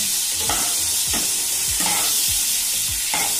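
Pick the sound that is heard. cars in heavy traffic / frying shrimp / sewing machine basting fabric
frying shrimp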